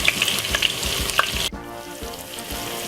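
Medium white onion, garlic cloves and spring onion frying in a pot, a loud bright sizzle with crackles, then an abrupt drop to a softer, steadier fry halfway through.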